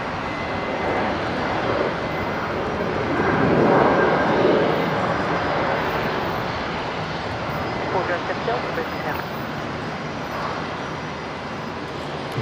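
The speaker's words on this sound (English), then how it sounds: "Just missed the touchdown, but there's Jetstar 818 in from Sydney, the 320." A Jetstar Airbus A320 arriving at Brisbane Airport just after touchdown, a broad steady jet roar that swells around the middle and then holds at a lower level, with wind-like rushing noise throughout.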